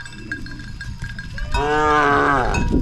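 Cattle and buffalo in rural Thailand, with cowbells clinking softly at first before a loud, long, close moo takes over for the second half.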